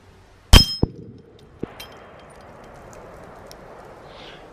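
A .270 Weatherby Vanguard rifle shot is followed by a sharp metallic clang as the bullet strikes an AR500 steel target, then a fainter second ping, all heard loud and brief on a quiet outdoor range.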